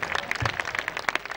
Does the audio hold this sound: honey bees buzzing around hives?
no